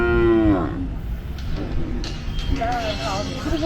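A cow lets out a loud, close moo at the start, with other cattle sounds and people talking in the background at a cattle market.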